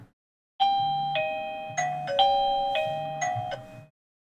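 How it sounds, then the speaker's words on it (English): A battery-operated doorbell camera plays its chime as a clear sequence of bright, ringing ding tones that overlap and fade, with quiet before and after. "if I click the doorbell,"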